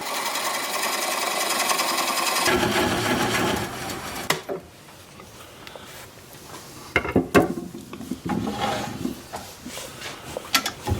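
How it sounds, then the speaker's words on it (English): Wood lathe spinning a cherry bowl as a gouge cuts through its bottom: a loud, steady, rough cutting roar for a few seconds that drops off, followed by quieter scraping bursts and knocks. "I'm going to apply the bevel of the gouge against the bottom of the bowl."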